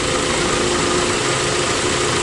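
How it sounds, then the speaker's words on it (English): A car engine with a suspected vacuum leak idles very roughly, giving a steady, loud, continuous rumble with no talk over it. "And the engine is running very, very rough"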